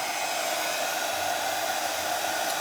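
A hair dryer blows steadily and loudly at close range, drying a decoupage glass plate, with an even, unbroken whooshing roar and no voices.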